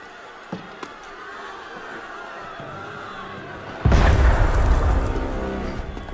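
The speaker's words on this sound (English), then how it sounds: "That was cannon fire." Cannon fire in the Assassin's Creed Unity video game, a sudden loud, heavy boom that cuts in partway through and leaves a sustained roar over the game's low ambient background.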